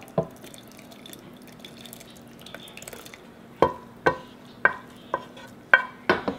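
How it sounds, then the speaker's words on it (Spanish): Rice dropped into pumpkin horchata water, making a short series of separate splashy plops and drips, fairly close and not loud, after a few seconds of quiet background. "Y ya por último vamos a agregar el arroz."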